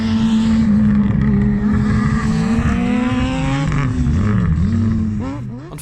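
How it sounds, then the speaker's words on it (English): Ford Fiesta R5 rally car engine on a circuit stage, loud and close, its tone climbing and dropping through gear changes with a steady revving drone that fades slightly at the end. "David Donegan in his Fiesta R5 has a shocker in the first stage"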